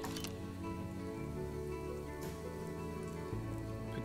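Steady rain falling in the Planet Zoo management game, a continuous even hiss of drops with ambient game music tones underneath, with no talking.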